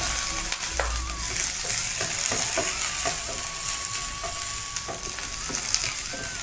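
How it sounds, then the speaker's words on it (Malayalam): Okra and onion sauté in a pan with a steady, close sizzle, broken by repeated scraping and stirring strokes and a few clinks, with no talking. "വെണ്ടയ്ക്കയും സവാളയും കൂടെ ഒന്ന് വഴറ്റിയെടുക്കാം."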